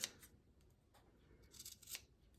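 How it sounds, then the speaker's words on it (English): Scissors trim fabric at a sewn V-shaped neckline on a T-shirt, giving several quiet, crisp snips spaced irregularly over a couple of seconds, with no talking. "Now I can trim it."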